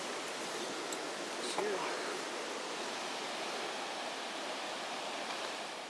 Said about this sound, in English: there's where the falls goes over